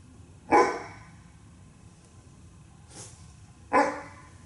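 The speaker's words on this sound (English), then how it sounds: "Barking dog." A dog barks twice, sharp and fairly close, with a softer bark between them, over a quiet background.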